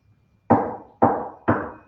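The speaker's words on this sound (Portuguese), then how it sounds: "3 batidas na parede." Three loud, sharp knocks on a wall, evenly spaced about half a second apart, each ringing briefly before the next, in an otherwise quiet room.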